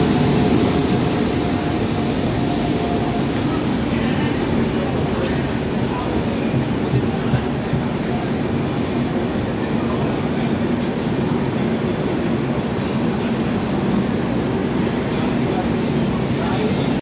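Steady rumbling roar of the Sealdah–Jalpaiguri Humsafar train in motion, a dense continuous rail and carriage noise heard from inside, loud and unbroken throughout.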